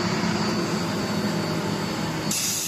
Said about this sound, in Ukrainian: От він вже скидає частоту, працює як 7 кіловатний компресор тепер.